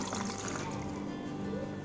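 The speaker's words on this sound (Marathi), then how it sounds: "3 ग्लास पाणी ओतणार आहे मी यामध्ये." Three glasses of water poured into a pressure cooker holding boiled tender jackfruit pieces in a home kitchen, a steady continuous splashing pour with faint voices in the background.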